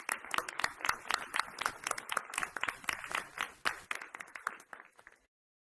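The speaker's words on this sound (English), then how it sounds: "A big round of applause to Mr. Reyes." Applause at a school board meeting for a staff member, a modest group's scattered, distinct handclaps in an uneven rhythm that taper off and stop near the end.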